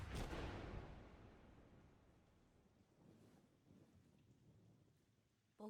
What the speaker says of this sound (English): I do remember it was a rainy night when the police showed up.